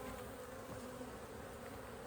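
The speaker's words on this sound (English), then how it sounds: "A lot of bees on this frame." Bees swarm thickly over a brood frame lifted from a hive, a steady close buzzing drone holding even and unbroken throughout with no voices.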